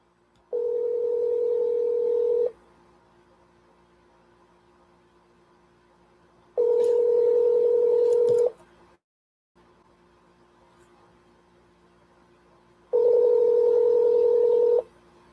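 Telephone dial tone for a cold call comes as three separate steady electronic tone bursts, each about two seconds long, separated by quiet gaps with a faint background hiss.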